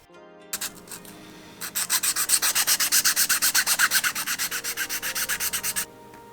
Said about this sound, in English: after a bit of sanding and filing, it managed to fit onto the tang